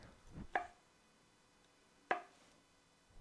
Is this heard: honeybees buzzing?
no